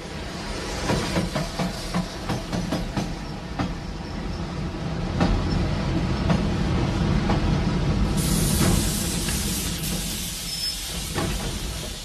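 Train running along a railway line near a border zone at night, loud continuous rolling rumble with rhythmic clicking of wheels over rail joints and a hiss that brightens toward the end, no voices.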